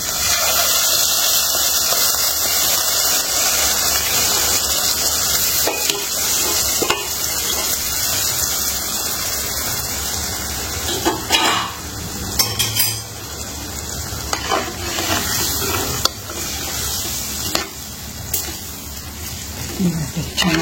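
Mashed brinjal dal drops into a hot tempering of spices and coriander, hissing loudly at first, then giving way to scraping and clinking of a spoon against the pan as it is stirred, with a voice talking intermittently.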